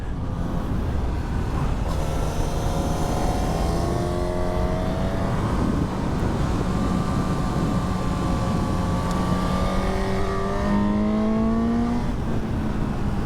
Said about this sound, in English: It does sound great, this bike, I have to say.